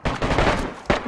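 Gunfire in the survival video game DayZ: a burst of loud, close shots crackling almost continuously, with a second sharp report near the end.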